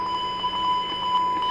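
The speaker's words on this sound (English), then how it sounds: "Now we'll do the main engine fire test. Engine one. Engine two." The engine fire test warning alarm sounds in a Majestic Q400 cockpit in the FSX flight simulator: a steady electronic tone with a rapid pulsing chime over it, loud and continuous, with no talk.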